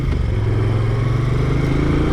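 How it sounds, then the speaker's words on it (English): A Moto Guzzi 1200 Sport motorcycle engine runs loud and close, a dense, steady low throb with a continuous rumble and no pauses. "Oh, the engine sounds so good."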